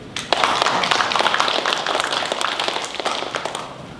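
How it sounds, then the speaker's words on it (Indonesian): An audience at a university annual report event applauds in dense, steady clapping that carries for about four seconds and then slowly thins. "Ya, mari kita bisa beri aplaus kepada kita dulu."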